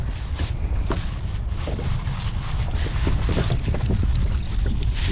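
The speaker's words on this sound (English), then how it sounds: "Wind speed picking up." Strong wind buffets a small fishing boat at sea on the eve of Hurricane Beryl, a steady loud roar with gusting rumble and faint water and hull knocks throughout.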